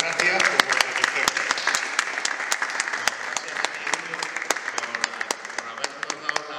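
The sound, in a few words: audience applause at book presentation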